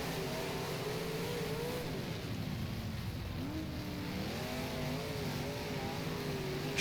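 Big Block Modified race cars roar around Utica Rome in rFactor, a steady, droning engine note that rises and falls in pitch as the throttle is worked, with other cars close by.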